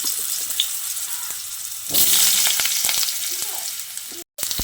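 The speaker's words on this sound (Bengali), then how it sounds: "তেলটা ভালোভাবে গরম হয়ে গেলে প্রথমে আমি গরম তেলে আলুগুলো দিয়ে দিচ্ছি" Potatoes dropped into hot mustard oil in a kadai, a soft hiss that swells into a louder bright sizzle and carries on steadily with small crackles and a brief dropout near the end.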